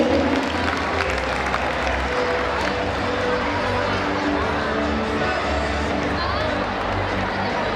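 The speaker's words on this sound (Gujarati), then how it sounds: "ફરીથી એકવાર તાળીઓના ગડગડાટથી તેમને વધાવી લઈશું" A crowd at the SATRANG 2024 stage event breaks into loud, sustained applause, dense clapping with some cheering and background chatter mixed in.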